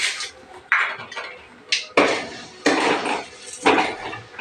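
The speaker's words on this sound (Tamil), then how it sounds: "கடுகு கடலைப்பருப்பு 2 பொரிஞ்சிடுச்சு." Mustard seeds and chana dal crackle and pop in hot oil while tamarind kuzhambu is being made, sharp bursts of sizzling spatter repeating close and loud in uneven clusters.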